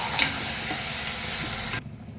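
Ground onion paste dropped into hot oil with curry leaves for a raw-banana curry, giving a loud steady sizzle with stirring scrapes that cuts off abruptly near the end.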